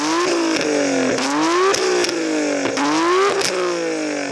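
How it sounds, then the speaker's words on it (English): A stock Nissan GT-R R32 with an aftermarket titanium exhaust revs repeatedly, its pitch rising and dropping in several sharp blips up close, loud and alone without speech. "I'm going to rev up this beautiful R32."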